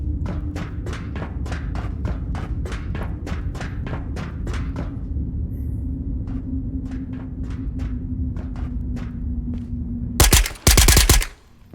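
Unsilenced scav gunfire in Ghosts of Tabor: rapid bursts of sharp shots, a quick string followed by a second volley after a short gap, then a loud close burst near the end.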